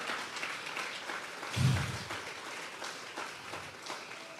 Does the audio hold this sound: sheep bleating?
no